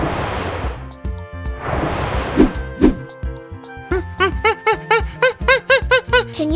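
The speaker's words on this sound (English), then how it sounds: "This voice is monkey." Monkey calls in a children's animal sound guessing game: after two bursts of noisy rough sound, a rapid series of loud, repeated chattering hoots rises and falls over background music.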